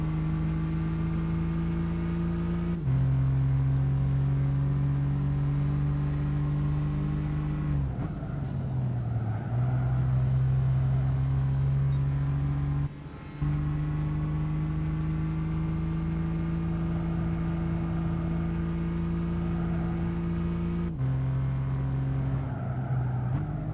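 An Alfa Romeo Giulia racing in Gran Turismo 5 during a Festival Italia event, a steady droning engine note that rises through each gear, then drops abruptly at every upshift, repeating across the run.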